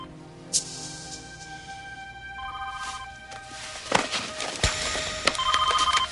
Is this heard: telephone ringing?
yes